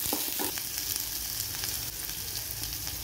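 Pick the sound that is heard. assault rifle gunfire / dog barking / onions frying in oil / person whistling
onions frying in oil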